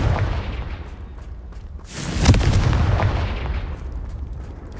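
Confringo fire spell exploding in Hogwarts Legacy, a loud close blast with a booming burst in the middle over a rumbling, crackling background, no talking.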